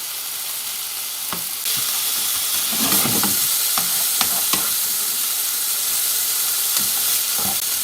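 Pork pieces frying with onions in a pan for a tikka dish, giving a loud, constant close sizzle with occasional faint clicks and stirring taps throughout.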